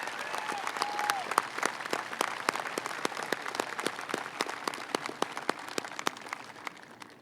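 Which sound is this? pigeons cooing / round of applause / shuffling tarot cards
round of applause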